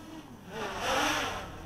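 Brushless motors of a 250-size quadcopter in flight, heard as a loud, steady whine that swells and then eases as the craft passes close by.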